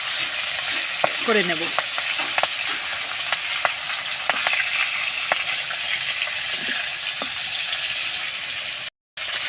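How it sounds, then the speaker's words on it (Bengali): Pomfret fish sizzles lightly in a pan, with a steady close frying crackle and occasional stirring clinks and scrapes. A voice says a few brief words near the end. "এই মুহূর্তে আমি মাছটা দিয়ে দেবো। এই মাছটা কিন্তু আমি ভাজবো না বন্ধুরা, হালকা কোনো রকম একটু"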